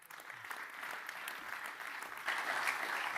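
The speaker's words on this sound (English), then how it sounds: "so please give him a big cheer" Audience applause welcoming a presenter at a handball Champions League group draw, a soft, distant, sustained wash of clapping that swells slightly louder near the end.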